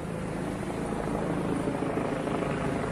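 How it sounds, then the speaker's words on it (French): Army helicopters circle overhead above nearly deserted streets in Algeria, a steady, loud rotor drone with a continuous rumbling chop and no voices. "vous n'entendez que les hélicoptères de l'armée qui tournoient dans le ciel"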